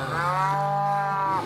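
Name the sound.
herd of cows mooing in a cartoon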